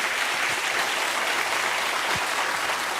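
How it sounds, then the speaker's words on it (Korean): A church congregation at a Wednesday worship service applauds together in praise, a broad, even wash of many hands clapping that fills the space steadily without a break. "전국 세계에서 다시 한번 여호와 하나님께 영광의 박수를 돌립시다"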